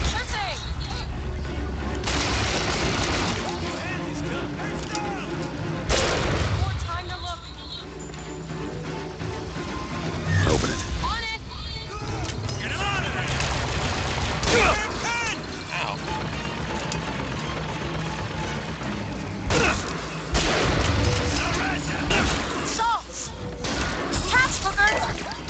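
Bolt-action rifle shots ring out in the video game BioShock Infinite: sharp loud cracks roughly every four to five seconds, with reloading between them, while a person talks throughout over game ambience.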